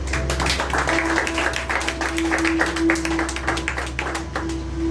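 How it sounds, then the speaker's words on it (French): A church congregation claps together in a steady run of rhythmic applause, close and even over a low hum, continuing for the full few seconds. "Nous avons un applaudissement pour l'Éternel"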